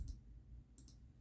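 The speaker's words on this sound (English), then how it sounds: "So now we need to do, I'm going to type in" A few quick calculator key presses while entering a number during a math lesson: a short click near the start and another pair a moment later, faint and close over a quiet room hum.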